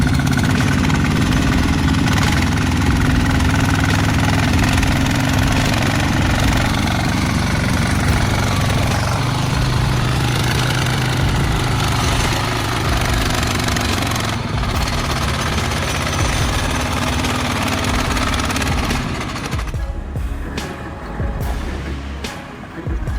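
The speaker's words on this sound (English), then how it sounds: "double-tire tractor still roared and moved forward strongly" A heavy double-tire tractor engine roars loudly and continuously while pushing up a slope, a rough low-pitched rumble with rattling, easing off and sputtering near the end.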